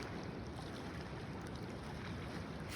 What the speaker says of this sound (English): Tuning once more into those waves as they roll in and roll out.